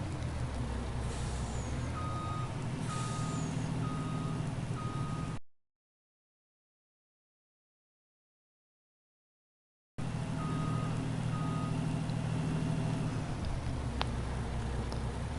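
A pickup truck in a farming video game backs up with steady reversing beeps over a low engine rumble and air-brake hiss, cutting to silence midway before the engine noise and beeping return.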